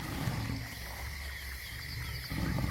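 A lion roars in the wild, deep and sustained, with low rumbling bursts at the start and again at the end over a steady outdoor background.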